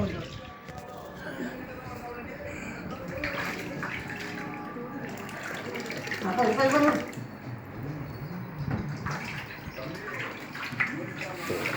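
Water splashes and runs steadily while fish are being washed by hand, with a brief louder surge of sloshing midway and people talking over it throughout.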